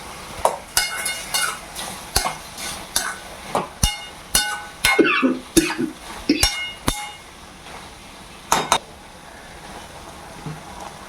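A spoon knocks against a pan as vegetables cook, with oil oil-vegetables such as eggplant being stirred. Sharp metallic clinks come at an irregular rhythm over a low, steady sizzle, and there is no talk.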